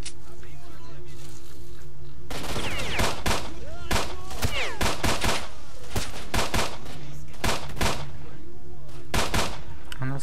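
Gunfire in the video game S.T.A.L.K.E.R., with repeated loud sharp shots and short bursts scattered across a rumbling background, and a person talking throughout.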